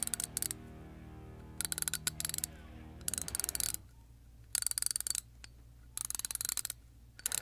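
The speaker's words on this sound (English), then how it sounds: "let's hear what that 120-tooth design sounds like." A new Craftsman 3/8-inch ratchet with a 120-tooth mechanism clicks in several quick bursts of fine, rapid ratcheting, each separated by brief pauses, close and crisp over a low steady background hum.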